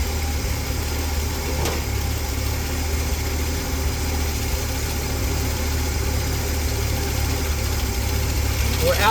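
A car engine fitted with a rebuilt Carter one-barrel carburetor idles steadily, an even low rumble with a faint mechanical whine that barely varies throughout.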